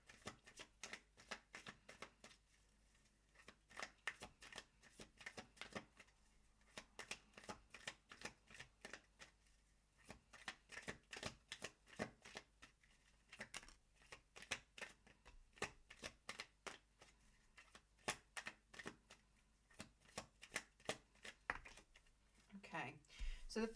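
A deck of tarot cards is shuffled again and again, giving crisp riffling flutters and soft slaps in an uneven, continuous rhythm, close by and fairly quiet.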